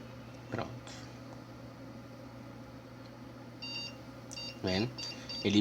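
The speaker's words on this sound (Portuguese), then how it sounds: "Ele bipa e de novo volta para a tela" A PC motherboard beeps during boot because of a CPU fan error, with short electronic beeps heard amid a steady low hum and some background noise, while someone speaks Portuguese.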